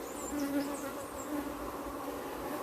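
Honey bees buzz steadily around brood frames lifted from an open hive, a close, continuous hum with individual insects whining past.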